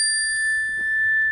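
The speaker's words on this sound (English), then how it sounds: "ring the bell, and then when I do that" A small handheld classroom chime gives a single bright ring, a clear sustained ding that hangs over a quiet room.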